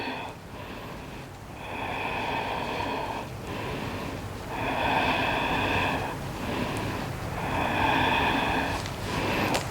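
Deep, slow breaths during a power yoga pose, three long airy breath cycles spaced a few seconds apart, close and fairly soft with no talking.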